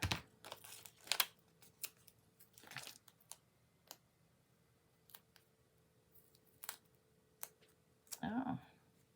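Paper for a handmade card is snipped and crinkled in short, quiet bursts of cutting and rustling separated by near-silent gaps, ending in a slightly louder shuffle.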